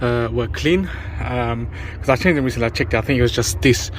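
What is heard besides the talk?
No everyday noises stand out.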